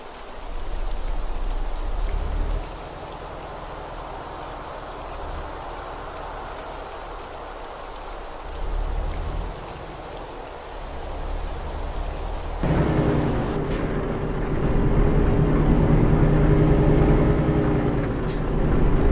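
Steady heavy rain with low rolling thunder in Euro Truck Simulator 2, in Denmark, growing louder and denser toward the end; no voices.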